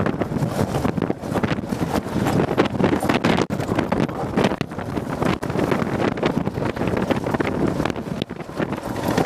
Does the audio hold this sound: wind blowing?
yes